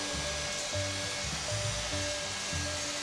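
A power saw with a fibre cement blade cuts exterior fibre cement cladding board during a veranda build, giving a steady loud whine with repeated low pulses as the blade bites, alone with no talk.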